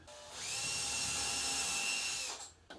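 A power drill whines steadily at high speed for about two seconds while drilling hinge screw holes, then spins down, close and loud with no talking.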